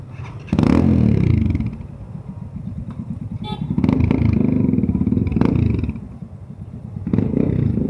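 A group of motorcycles on a road trip from Daraga to Camalig rumbles and revs nearby, engines rising and falling together in a loud, continuous drone.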